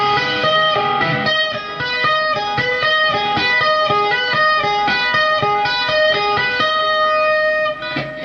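Rapid tapped notes on an electric guitar with heavy distortion, a fast, continuous run of bright, sustained notes played loud and alone, with no talking, ending in a brief dip.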